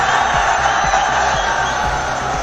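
Large outdoor election rally crowd in Raniganj cheering and clapping for a BJP candidate, a dense steady roar of many voices and applause, loud and continuous throughout.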